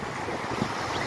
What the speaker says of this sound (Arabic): البحر هنا مفتوح يا شباب، بس الموج زي ما انتم شايفين مش عالي